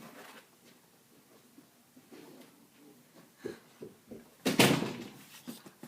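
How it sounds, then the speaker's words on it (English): A door shutting in a quiet room, with soft shuffling and handling sounds followed by one sharp thump near the end. "So I'll just close the door."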